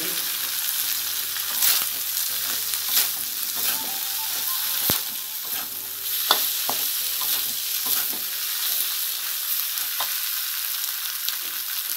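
Chicken noodles with bean sprouts stir-fried in a wok, with a steady sizzle and frequent scraping clicks of the spatula against the pan, close up and with no talking.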